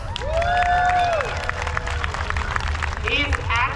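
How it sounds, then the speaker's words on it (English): Audience applause and cheering from a crowd at a fair's single buck sawing demonstration, a steady wash of clapping with whoops and voices over it, close and loud throughout. "Give a big round of applause for that."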